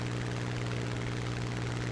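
A propeller aircraft engine roars steadily in War Thunder, a constant dense drone filling the whole short stretch without variation.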